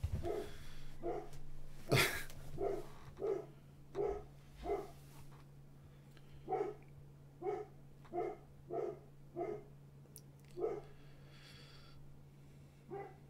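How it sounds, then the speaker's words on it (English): A dog barks in a repeated string of about a dozen sharp barks with short gaps, fairly loud and close, over a steady low hum indoors, with no talking. "Dog's going crazy."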